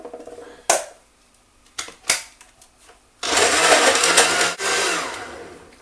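A Panasonic blender starts up after a few clunks and knocks, then roars loudly and steadily for a couple of seconds with a short dip in the middle, close by.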